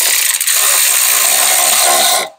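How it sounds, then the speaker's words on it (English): An electric ratchet with a 19 mm shallow socket whirs loudly and steadily close by for about two seconds during rear brake work on an Infiniti QX50, then stops abruptly. "I'm gonna grab the electric ratchet, 19 millimeter, shallow socket"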